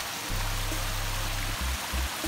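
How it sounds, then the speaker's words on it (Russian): A waterfall in an Alpine gorge rushes in a continuous broadband roar, steady and moderately loud, with a low rumble that cuts in and out in short bursts, likely wind buffeting the microphone. "И еще один водопад."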